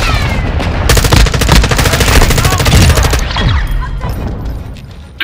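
Call of Duty: Modern Warfare II gunfire: a loud, rapid automatic burst fires on target for about two seconds, then tails off into scattered distant shots and echoes, with faint voice chatter underneath.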